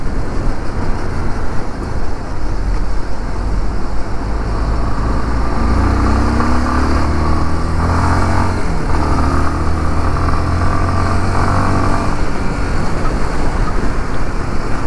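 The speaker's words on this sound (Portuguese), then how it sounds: "Nossa, muito gostoso de pilotar essa moto" A 2023 Yamaha Lander 250 motorcycle is ridden, with a steady mid-pitched engine drone and wind noise. Around the middle the engine swells slightly under throttle. No speech is audible.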